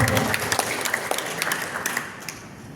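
Audience applause at a KNPI Youth Pledge ceremony in Indonesia, a crowd clapping in a busy, overlapping patter that starts strong and gradually thins out over a few seconds.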